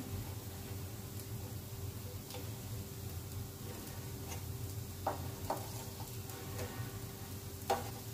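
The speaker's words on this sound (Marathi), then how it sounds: "आपले वडे आता एका बाजूने शिजलेले आहेत, आपण त्यांना पलटी करून घेऊया" Spinach and jowar vadas fry in a pan, a soft, steady sizzle with occasional sharp ticks and pops of oil, close by and quiet.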